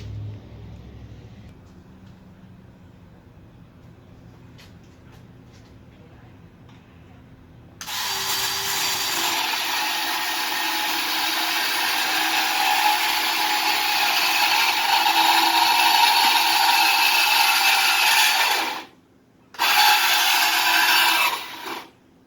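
Power tool cutting through the exhaust of a Can-Am X3, a loud continuous grinding whine starting abruptly after quiet workshop sounds, running steadily for about ten seconds, pausing briefly, then resuming.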